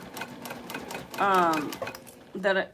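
A sewing machine stitches thick materials for a crossbody bag in a quick rapid rattle. It alternates with a voice talking.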